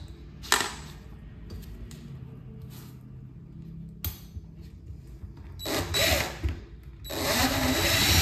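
A power drill drives screws into a wooden frame during a laundry room and half bath renovation, with a few short whirring bursts in a quiet room and a longer sustained run at the end.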